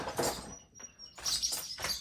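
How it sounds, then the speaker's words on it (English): Scattered bird chirps come in short bursts, with a brief quieter gap in the middle, moderately close outdoors on rural farm property. "Look at all the birds."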